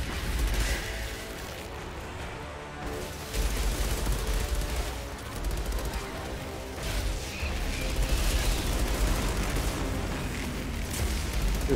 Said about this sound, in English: This gun is doing some damage though